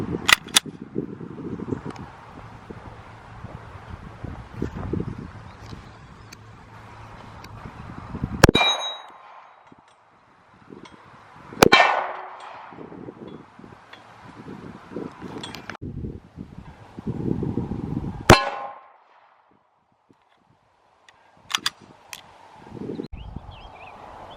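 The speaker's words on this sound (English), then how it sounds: "I'm going to start with just 9mm ball ammo out of my P320." 9mm ball rounds from a P320 pistol strike an AR600 Level III+ steel body armor plate at 7 to 10 yards, giving a few sharp, ringing clangs spaced seconds apart over faint outdoor wind and rustling.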